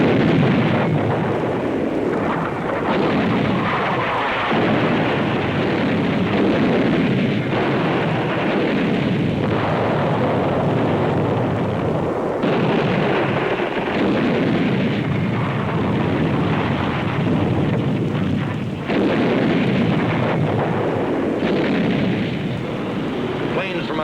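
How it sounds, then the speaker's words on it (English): World War II naval bombardment of a Pacific island, heard as continuous heavy rumbling with repeated deep booms and blasts that stay loud throughout, with no clear speech over them. "The Navy begins to soften up the island so we can land."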